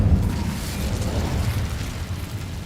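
The Incendio fire spell is cast in the video game Hogwarts Legacy, giving a loud, deep whooshing burst of flame with a low rumble that slowly fades.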